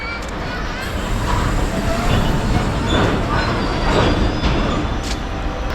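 Railway platform between platforms 3 and 4 at Sainthia station, with a steady wash of station and train noise, crowd babble and rumble running throughout, moderately loud and continuous.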